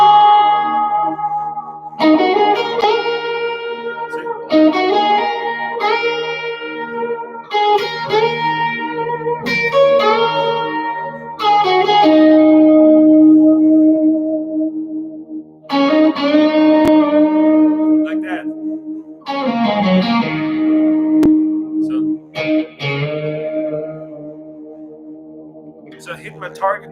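Electric guitar notes bend and glide in pitch, played in separate phrases with sustain and reverb, bright and up close; a voice speaks between phrases.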